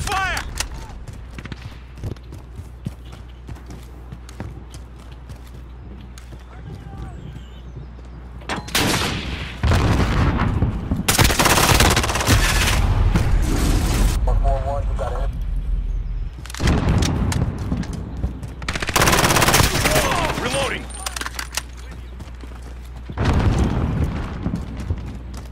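Gunfire from a .458 SOCOM M4A1 in a video game, loud bursts of shots and booming blasts coming in repeated volleys over quieter background stretches.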